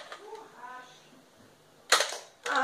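At a target shooting round, two sharp, loud cracks go off in quick succession, each a short snapping burst, after a stretch of quiet with a brief voice near the start.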